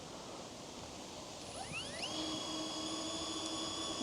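A DJI Avata 2 drone fitted with Master Airscrew stealth propellers idles and spins up, giving a steady airy whir with a rising, whining motor pitch that settles into a sustained tone, heard at moderate level with no talk.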